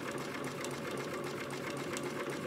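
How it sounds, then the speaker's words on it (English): Sewing machine running a steady top stitch set to a longer stitch length along the sides of a small dog's party outfit, a continuous close mechanical hum with rapid needle chatter and no talking. "I've already got my machine set to the longer stitch."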